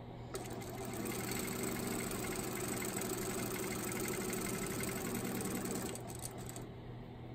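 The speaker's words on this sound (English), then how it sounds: "sew a nice scant quarter inch seam along that edge" Sewing machine stitching a scant quarter inch seam in quilt block fabric, a steady, close whirring hum that runs continuously for about six seconds before stopping.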